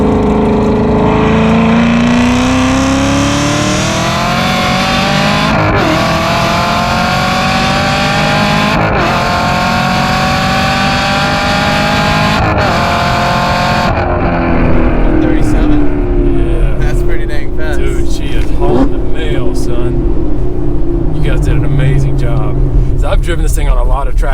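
Hennessey Chevrolet Camaro ZL1 1LE HPE 750 accelerating hard, engine roaring with rising pitch through gear changes, loud and close from inside the car, with people talking over it.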